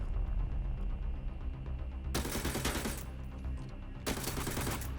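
Automatic gunfire in the shooter game Arena Breakout: two sustained, loud bursts of rapid shots about a second long each, separated by a low humming lull.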